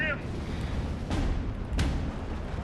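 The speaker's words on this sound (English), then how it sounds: "I did not notice that my sniper was getting mortared yet" Mortar shells land on a sniper position in the WWII strategy game Steel Division 2, giving two deep booming impacts about a second apart over a low rumbling battlefield background.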